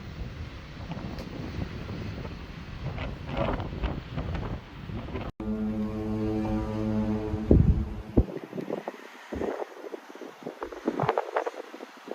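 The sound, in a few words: ship's foghorn sounding in fog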